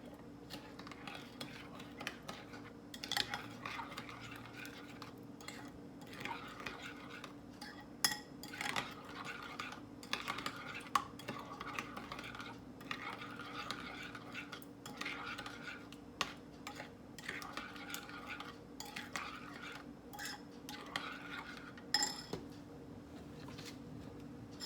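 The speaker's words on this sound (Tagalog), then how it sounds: "Mix it all together." Curry barbecue chicken sauce stirred in a bowl, with a steady run of soft scraping and light clinks of a utensil against the bowl sides, close and moderately quiet, with no talking.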